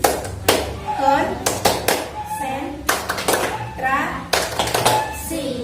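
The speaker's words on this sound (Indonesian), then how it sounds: "Tepuk konsentrasi." Schoolchildren in a classroom perform a rhythmic concentration clap, sharp group claps in patterned bursts between short chanted words, with a teacher's voice leading between rounds.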